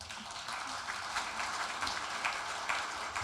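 Steady, even applause from an audience at the 3·1 Culture Award ceremony, a dense patter of many hands clapping close by and moderately loud, continuing without a break and with no voices over it.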